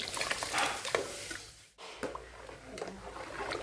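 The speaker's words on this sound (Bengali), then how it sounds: "চাল ডাল খুব ভালো করে একটু নাড়িয়ে নিচ্ছি" Washed rice and lentils are stirred in a large pot of hot water, giving soft wet swishing and scraping sounds. A voice talks over the stirring, with a short quiet gap in the middle.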